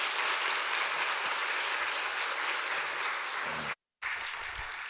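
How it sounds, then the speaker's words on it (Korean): Applause from a church congregation at a mothers' prayer meeting, a steady, dense patter of many hands clapping at moderate loudness, briefly cut off by a short gap of silence before resuming. "큰 박수 보내주시기 바랍니다."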